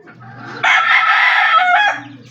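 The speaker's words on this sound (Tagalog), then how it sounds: "Nilipat na natin yung mga sisiw sa lupa." A chicken gives one loud, drawn-out crowing call close by, lasting over a second, with faint clucking and chick chirps before and after it.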